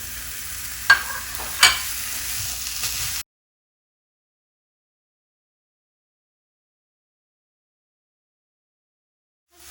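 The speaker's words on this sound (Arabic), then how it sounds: "راح اضيف اللحم المفروم، راح اظل اقلب بيه الى ان يتغير لونه" Minced meat fries and is stirred in a pan, giving a close, steady sizzle with a couple of sharp scraping knocks for about three seconds before the sound cuts to silence.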